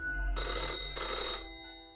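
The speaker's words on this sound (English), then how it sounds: "The old-fashioned phone suddenly rings with an ear-piercing metallic clatter" An old-fashioned telephone in the video game Death and Taxes rings with a shrill metallic clatter, two bursts of ringing heard alone at moderate volume.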